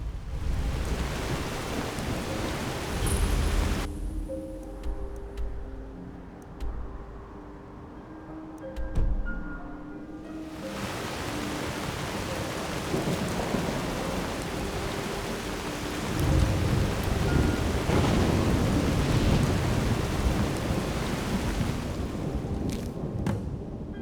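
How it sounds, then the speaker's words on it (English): Heavy rain pours steadily with rolling thunder, a deep rumble swelling early, easing into a quieter patter midway, then a second long roll of thunder building and sustaining through the latter half. "Looks like rain."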